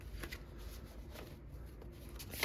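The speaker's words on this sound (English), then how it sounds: "Sorry, these are hard to shuffle." Tarot cards being shuffled up close with a soft, continuous riffling and rustling, fairly quiet and steady throughout, with no voices.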